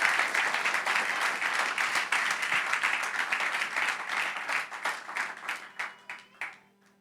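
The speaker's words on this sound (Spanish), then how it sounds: "Si ese aplauso es para el Señor, déselo fuerte." A church congregation applauds for the Lord, a full burst of many hands clapping that swells and then thins into scattered claps before fading near the end.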